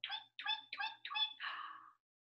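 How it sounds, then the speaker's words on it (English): A bird chirps five times in quick succession, clear and close, the last call drawn out a little longer before silence. "It's a bird."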